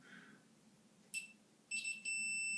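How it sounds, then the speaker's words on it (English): A multimeter in continuity mode gives short, faint high-pitched beeps, first a brief one, then a second that becomes a steady tone over a quiet hum. "Just kind of listen for the beeps if the multimeter's not in frame on the video."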